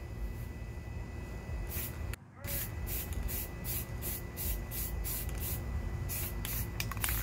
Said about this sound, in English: After 15 minutes, spray a medium coat of your color.